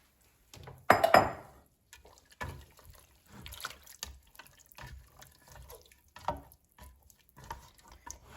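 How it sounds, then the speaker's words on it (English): Four cups of water pour and splash into a metal pot in a short burst, followed by quieter sloshing, clinks and scattered handling noises. "now I'm going to add water"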